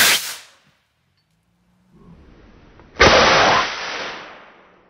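A harpoon fired by 3,000 PSI compressed air into hay bales and plywood: a short burst, a brief hiss, then one sharp, loud blast of rushing air that slowly fades, heard alone with no talk.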